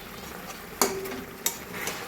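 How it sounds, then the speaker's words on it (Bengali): Rohu fish curry in mustard and poppy seed being stirred after tomato sauce goes in, a soft simmering sizzle broken by two sharp utensil clinks against the pan. "সসটা দিয়ে খুব ভালোভাবে নাড়িয়ে নিতে হবে এবং এতে একটু ফোটার জন্য টাইম দিতে হবে।"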